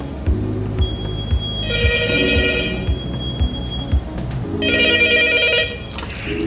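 A telephone rings on a ship's bridge during a power change, its repeating electronic ring in two bursts over steady machinery hum and alarm tones.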